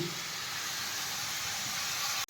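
Egg frying in a pan for a Bengali fish-head and ash gourd curry, giving a steady, dense sizzle with steamy hiss throughout, cut off abruptly near the end.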